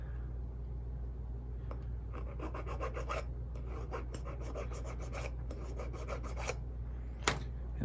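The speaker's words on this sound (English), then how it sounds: "Let's file that smooth." A file rasping a small metal part of an HO scale steam engine kit smooth, in quick repeated short strokes over a low steady hum, close and fairly quiet, ending with a sharp tap.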